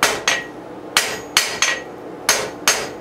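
A hammer forges hot steel, drawing the end out into a flat chisel point. Sharp ringing metallic blows land close by, seven in about three seconds, in an uneven rhythm and sometimes in quick pairs, with no talking.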